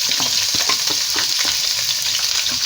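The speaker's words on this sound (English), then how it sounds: "It is already hot. I'm going to add the onion." Chopped onion sizzles and crackles in hot oil in a pot for a Kenyan chicken stew, a steady, loud frying hiss with small pops and stirring scrapes and no voices.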